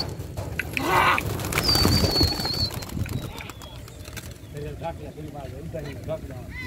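Pigeons at a kabootar bazi flying competition come back to their coop, with one or two coos, wing flutters and a brief whistle-like call over outdoor bustle, while people talk nearby.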